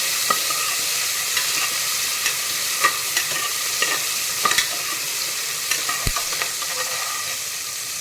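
Tomatoes, onions and curry leaves frying in a pan, a steady close sizzle with scattered spatula taps and scrapes and one sharp knock near the end.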